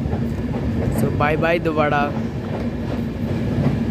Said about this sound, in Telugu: మన ట్రైన్ అయితే దువ్వాడ స్టేషన్ నుండి అయితే స్టార్ట్ అయిపోయింది